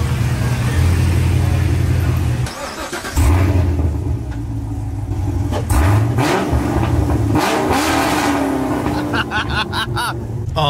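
A 550 hp supercharged Corvette C7 Stingray with an Armytrix valved exhaust revs hard, a loud, close engine note rising and falling through several throttle blips with crackling, rasping exhaust tone throughout.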